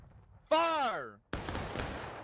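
A single close volley of gunfire from a video game fires on command, a sharp burst followed by a dense rolling crash that lingers, preceded by a loud shouted voice.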